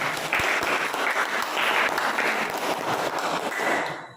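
A classroom of students gives a round of applause, steady close clapping that holds for a few seconds and then fades out.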